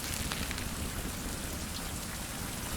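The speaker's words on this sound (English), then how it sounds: "so while it's raining, we might just as well delve a bit deeper into the cave." Steady rain in the Survival: Fountain of Youth game: a dense, continuous hiss of falling drops on surfaces, even and unbroken, with no talk.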